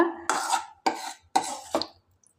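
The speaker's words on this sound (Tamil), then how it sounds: "சேர்த்துட்டு நல்லா கலக்கி விடுங்க" Thick mango thokku stirred in a kadai after mustard-fenugreek powder goes in: four short scraping, clinking strokes of a spoon against the pan, close and distinct, then silence.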